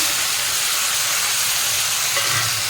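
Liver pieces and bread frying together in a pan give a steady, continuous sizzle and hiss close by, with no talking over it.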